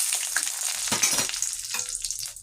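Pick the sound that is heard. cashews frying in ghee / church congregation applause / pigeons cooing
cashews frying in ghee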